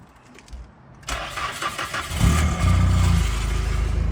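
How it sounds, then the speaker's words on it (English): A used automatic car with 115,000 on the odometer cranks and starts after a quiet moment, then settles into a loud, steady, low idle rumble that carries on alone. "Listen to her purr."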